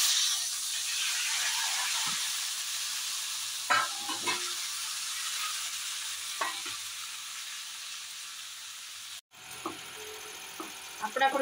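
Tomatoes fry in plenty of coconut oil in a pan, a steady bright sizzling hiss with a few stirring scrapes and knocks and a brief break near the end.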